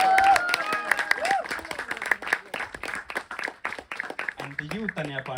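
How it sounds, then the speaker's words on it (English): Applause from a crowd at a wedding registry ceremony, scattered clapping under talk and brief music tones, moderately loud throughout. "We need louder claps, please."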